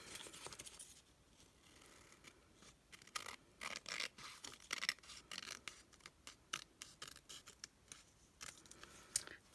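Scissors snipping through paper in a quick series of sharp, close cuts, some clustered rapidly and others spaced apart, fairly quiet with no voices.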